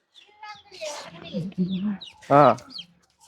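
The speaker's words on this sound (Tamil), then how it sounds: "இதான் கோழில நீங்க வளர்க்கீங்க?" Chickens being raised at a rural home cluck and squawk close by, with a loud hen call near the end, mixed with people talking nearby.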